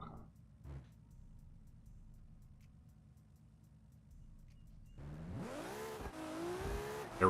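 A dragster in BeamNG.Drive sits at a low idle rumble, then launches with a sudden loud engine roar that climbs steeply in pitch as it accelerates hard, with the tires faintly squealing.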